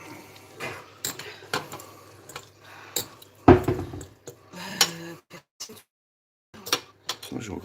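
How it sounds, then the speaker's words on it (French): Crushed boiled eggs mixed in a dish for asparagus à la flamande, with irregular clinks and scrapes of a utensil against the dish, some louder knocks, and brief gaps between bursts. "on mélange bien les œufs concassés"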